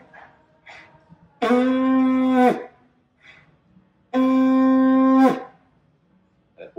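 Two long, loud, steady blasts of a conch shell trumpet, each about a second long, separated by a pause with faint breathy sounds between them.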